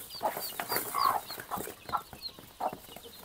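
A hen and her young chicks cluck and cheep on a farm, with close, busy calls overlapping steadily and no talking.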